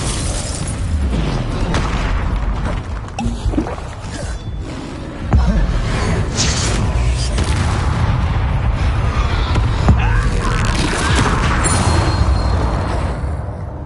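Game combat in Hogwarts Legacy with a Confringo blasting spell going off, a booming burst amid continuous loud battle noise, crashes and rumbling effects throughout, with a sharper impact partway through.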